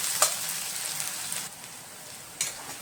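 Onions frying in oil for a duck curry with potato: a soft, steady sizzle and crackle close by, with a couple of brief stirring knocks and scrapes in the pan.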